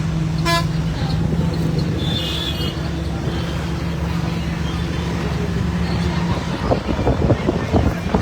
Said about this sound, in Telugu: సో బస్సులో వెళ్తున్నాం అనమాట సో బస్సు మీకు ఒకసారి చూపిస్తాను